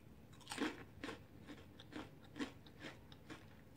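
Crunchy bites and chewing of Flamin' Hot Cheetos-coated buffalo chicken wings, a handful of soft, close crackling crunches spaced about half a second apart, quiet and with no talking.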